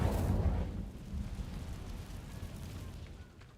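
The Incendio fire spell goes off in Hogwarts Legacy inside a cave, a deep rumbling burst of flame that flares at the start and then settles into a low, fading roar.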